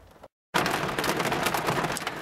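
Sudden heavy downpour with thunder, loud dense rain roaring steadily after a brief silent gap, with cracking bursts mixed in and no talk.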